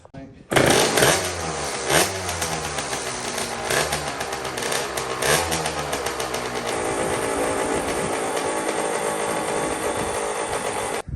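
A rebuilt Honda TRX90 ATV engine with a CR85 swap runs nearby, its raspy two-stroke idle and revs loud and continuous, with brief blips early on and a few voices in the background.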